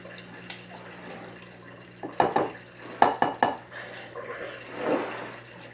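Sourdough starter being stirred in a container, with a run of clinking, scraping strokes in quick bursts, close and moderately loud, over a steady background hum from a running dishwasher.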